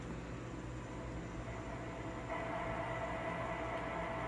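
Model train running on a home layout, a steady soft mechanical hum and whir with faint rail rumble, continuous and fairly quiet, no speech.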